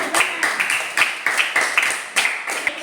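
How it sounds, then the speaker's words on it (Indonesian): A small group in a classroom claps rhythmically with the jury during a group presentation. The claps come in short, regular bursts and are fairly close and loud. "tepuk tangan dulu"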